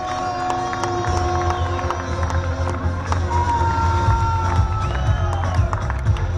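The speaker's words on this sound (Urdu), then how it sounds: "کھڑے ہو کے تالی بجنی چاہیے" A crowd at a political rally in Pakistan cheers and claps after being asked to stand and applaud, a dense, steady roar of voices and clapping throughout with some shouts rising above it.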